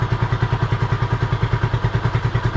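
A Honda CB250RS motorcycle engine idles with a steady, even thumping pulse, loud and close, the regular beat continuing throughout with no talking.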